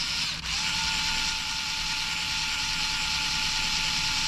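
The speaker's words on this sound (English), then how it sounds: "You hear that diff action?" RC car ball differential worked in by hand during a build, giving a steady, close, gritty mechanical whirring grind that runs continuously after a brief dip at the start.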